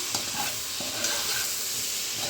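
Cooked ivy gourd pieces being stirred in a pan, a steady dense sizzle with faint scraping strokes, close and even throughout a short stretch.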